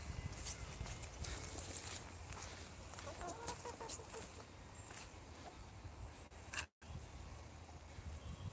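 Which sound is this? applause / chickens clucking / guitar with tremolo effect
chickens clucking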